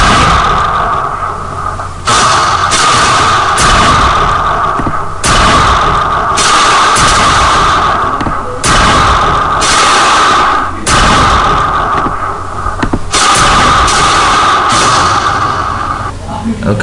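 Game audio from the Robomania Matlab video game plays loudly throughout: a dense, steady noise punctuated by repeated sharp bursts and booms from shooting and bombs, with a voice talking over parts of it.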